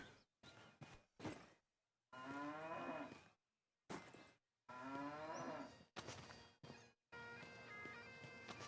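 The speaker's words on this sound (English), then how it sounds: "I'm hoping it's not 30 different cows." Cows in an ARPG video game moo repeatedly in separate long calls broken by short silences, loud and clear with no talk over them.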